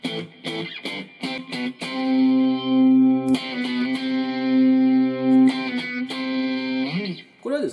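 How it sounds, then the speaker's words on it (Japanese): Electric guitar through a Zoom MS-50G distortion with a compressor plays short choppy stabs, then long sustained notes and bright driven chords. "まずはメインの歪み、もうこれ1本と言いたいところなんですけれども、コンプはクリーンも歪みの時もずっとつけております"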